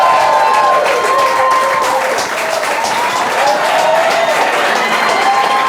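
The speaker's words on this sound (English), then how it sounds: "Big round of applause for David Komie!" A studio audience at a late-night TV show claps and cheers loudly and steadily to welcome guest David Komie, an attorney, a dense sustained wave of applause with faint whoops throughout.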